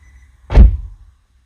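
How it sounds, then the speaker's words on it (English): A single solid thunk of a Nissan 370Z car door shutting, close by, with a brief low rumble that fades into quiet. "I'm just going to close my door"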